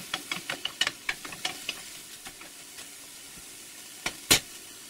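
Champignon mushrooms dry-frying in a pan without oil while being stirred, with a run of scraping stir strokes followed by a soft hiss and a sharp utensil knock near the end; no voices.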